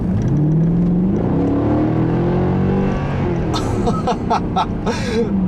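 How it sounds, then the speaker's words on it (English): A 2009 Mercedes-Benz C63 AMG V8 engine roars steadily, its pitch climbing as it revs higher, loud and close, with some clicks and rattles toward the end. "listen to the sound of that V8 when it gets up in the higher revs"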